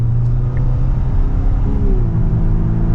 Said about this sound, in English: I think that is the piped in sound with the exhaust there